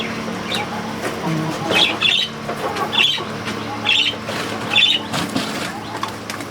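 Pigeons and poultry on a rooftop garden squawk in short repeated bursts, about five sharp calls spaced roughly a second apart over a low background murmur.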